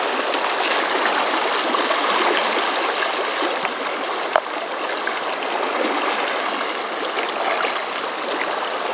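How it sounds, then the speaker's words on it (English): Fast, rough water of the South Fork Snake River rushes past in a loud, continuous roar with a bright hiss and bubbling gurgle, one small knock briefly standing out midway. "The water's moving so fast."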